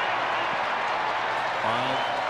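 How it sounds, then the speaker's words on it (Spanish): A virtual crowd applauds steadily during a Top Spin 4 tennis match in career mode, a dense wash of clapping that runs throughout, with faint voices under it. "Y nos aplaude y todo."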